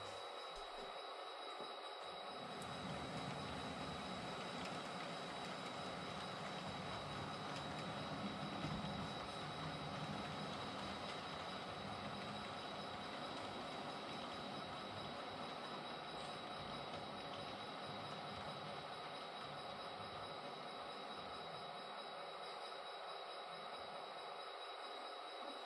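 A model railroad freight train runs steadily for a long stretch, a continuous quiet whirring rumble with faint wheel noise and a thin high whine, no voices over it.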